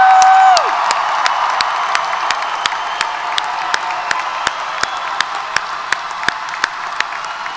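A crowd at a university commencement ceremony applauds and cheers. The clapping is a broad, steady wash heard from a distance, and regular sharp clicks run through it.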